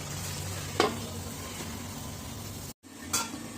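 Chicken cooking in a covered pot gives off a steady broadband sizzle throughout, with a couple of brief clinks of lid or utensil and a short dropout near the end.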